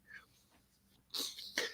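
A single human sneeze, a sharp sudden burst with a quick intake breath and a second short explosive puff right after, close and loud against quiet room tone.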